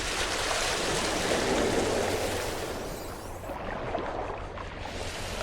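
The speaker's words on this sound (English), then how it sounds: "These bigger waves might be coming through here in a minute." Big ocean waves surging and crashing in the video game No Man's Sky, a loud, broad wash of water that swells and then eases slightly, with no talk over it.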